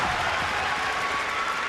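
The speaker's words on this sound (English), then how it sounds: "What a super reaction from the Hydro crowd" A large arena crowd at a European artistic gymnastics championships applauds steadily, a dense, even wash of clapping with no break.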